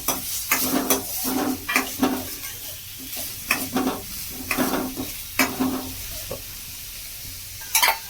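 Chopped onion fries in hot oil for homemade momos, hissing and sizzling steadily. A utensil repeatedly stirs and scrapes the pan in an irregular rhythm, with occasional clinks, and nobody speaks.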